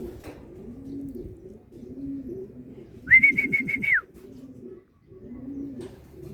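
Racing pigeons at a pigeon race, low repeated cooing throughout with a brief high whistling burst in the middle, quiet and close, no speech.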